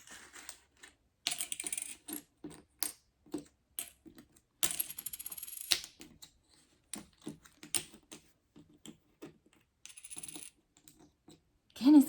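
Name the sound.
coins being picked up and dropped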